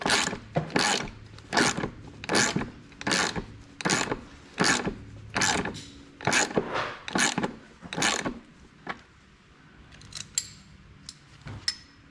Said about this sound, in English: And you just kind of tighten them over each other.